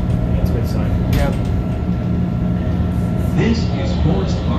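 A CTA Blue Line train in Chicago rolls toward Forest Park with a steady low rumble and hum inside the car, a few faint clanks and squeaks on top, and voices talking nearby.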